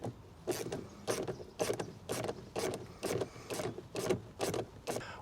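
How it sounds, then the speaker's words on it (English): A screwdriver backs small nuts with attached washers off the speaker trim covers of a Ram Promaster van, giving about ten close, evenly spaced scraping clicks in a steady rhythm with no talking. "we're just going to use our screwdriver to get those out"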